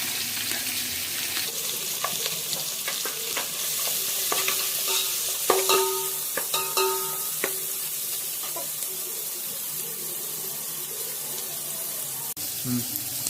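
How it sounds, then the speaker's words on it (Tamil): Onions fry in ghee with cinnamon in a pot for Dindigul-style biryani, a steady sizzle running throughout while a spoon stirs and scrapes with clinks and knocks. "வெங்காயம் நெய்யில் தான் வதக்கணும். அப்போ தான் பிரியாணி நல்லா டேஸ்ட்டாக இருக்கும்."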